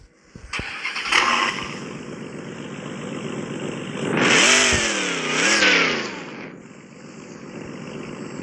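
Dodge Challenger wide body car in a video game starting up, a crank and catch followed by two rising engine revs that swell loudly and fall back to a rumbling idle, close and without talking.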